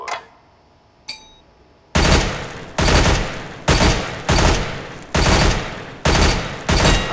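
Video game gunfire from Counter-Strike: Global Offensive, shooting through a wooden panel at a target on a weapons training course: two faint clicks, then seven loud, evenly spaced heavy gunshots, each sharp and decaying, close and alone.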